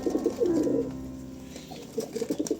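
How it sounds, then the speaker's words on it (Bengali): Pairing pigeons coo close by in two soft, rolling bursts with a short pause between, alone and fairly clear. "দেখুন আপনারা কত সুন্দরভাবে জোড়া নিচ্ছে পায়রা"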